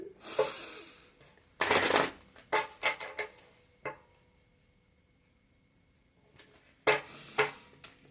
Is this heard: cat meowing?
no